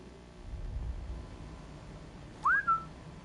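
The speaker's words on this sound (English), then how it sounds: "So we're going to change to whistle." An in-game whistle from the Sniper Elite Resistance video game, used to lure enemies: one short, bright rising two-note whistle near the end, heard clearly over low, quiet game ambience with no talking.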